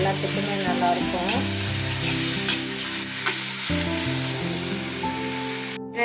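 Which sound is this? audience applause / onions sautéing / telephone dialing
onions sautéing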